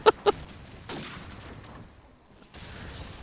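Two sharp gunshots in a competitive video game match crack in quick succession right at the start, then fade into quieter, muffled game ambience.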